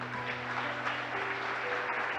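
A church congregation applauds in a faint, steady wash of clapping heard from a distance over a low electrical hum.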